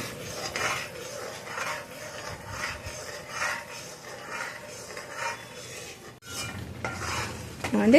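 A thick cashew, ghee and milk-powder mixture is poured into a heavy pan over medium flame for Mysore pak, giving soft rubbing and scraping with faint sizzling and a brief metallic clink near the end.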